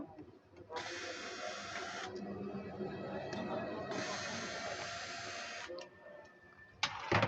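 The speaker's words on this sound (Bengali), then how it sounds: "আমি নাটগুলো খুলে নিই একটা ইউপিএস আমি নাট খুলে আপনাদেরকে দেখাবো" An APC 650 VA 390 W 12 V UPS being worked on, with two long whirring stretches like a powered screwdriver loosening nuts, fairly faint and close, over a quiet room with someone talking.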